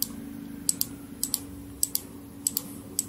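Keys clack on a computer keyboard as text is typed into a logo design in Adobe Illustrator, in quick uneven clusters of clicks over a faint steady hum, with no talking.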